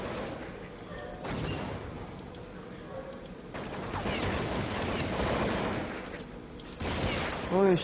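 Gunfire bursts from a Counter-Strike firefight on de_forge crackle in repeated volleys at moderate loudness, with a voice briefly audible near the end.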